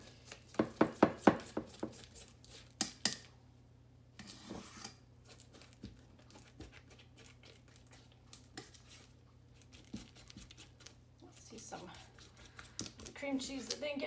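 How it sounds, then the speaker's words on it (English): Cream cheese mixture for turtle brownies being stirred in a bowl, opening with a quick run of loud knocks and scrapes against the bowl, then quieter intermittent scraping and tapping alongside spoken words. "so I'm just going to give it a good stir to get that incorporated"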